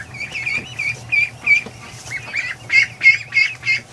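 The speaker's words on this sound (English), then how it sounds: "look at the Dalmatian ducks." Dalmatian ducks in a barn honk and squawk in a rapid series of loud, close calls that repeat in an uneven rhythm, with a low hum behind them.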